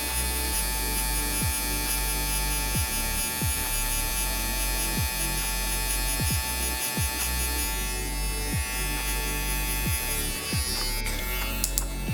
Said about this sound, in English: Clipper, halfway,